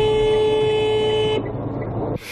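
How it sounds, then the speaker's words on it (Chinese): A long-term-care passenger van's horn blares in one sustained loud honk at a busy intersection, then cuts off into road noise and a brief rush of sound at the end. "长照驾驶按了喇叭紧急刹住"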